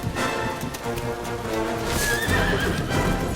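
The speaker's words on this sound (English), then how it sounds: "There was the hoofbeats." Horse hoofbeats clip-clopping steadily alongside a whinnying neigh in the 2D mode of the role-playing game Dragon Quest 11, with game music playing underneath.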